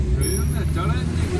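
A Suzuki car with a DDiS engine climbs uphill in second gear, giving a steady, loud, low engine drone throughout while people talk over it.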